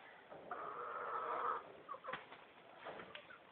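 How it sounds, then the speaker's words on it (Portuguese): A rooster crows once, faint and somewhat distant, followed by a few soft clucks and bird calls over quiet background noise. "Ah, galo."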